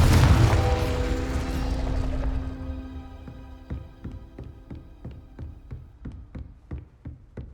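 Confringo explosive spell in Hogwarts Legacy: one loud, deep blast at the start that slowly rumbles away, followed by a fainter run of evenly spaced sharp ticks.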